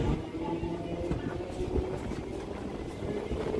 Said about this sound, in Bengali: 8:29 ডাউন হাসনাবাদ শিয়ালদা লোকাল 4 নম্বর প্ল্যাটফর্মে ঢুকছে।